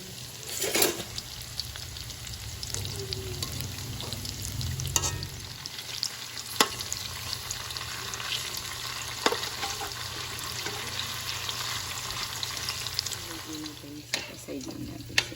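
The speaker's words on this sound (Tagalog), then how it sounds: "Tofu, fry lang natin sila." Tofu pieces frying in oil give a steady, low sizzle across the whole stretch, punctuated by occasional sharp clicks and taps from utensils. No one talks.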